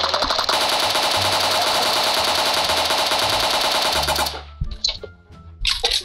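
Dense, continuous automatic gunfire from the PUBG mobile battle royale game rattles loudly for about four seconds, then cuts off, leaving a few scattered shots and softer effects.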